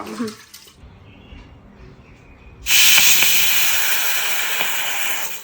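Steam hisses from a pot of freshly cooked rice: a quiet stretch, then a sudden loud, steady broadband hiss that holds to the end.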